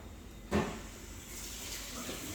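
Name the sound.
water running from a tap while washing hands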